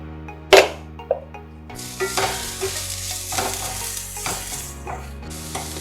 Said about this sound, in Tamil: வெங்காயம் நம்ம வந்து நல்லா வதங்கிறது, கொஞ்சம் உப்பு போட்டுக்கலாம்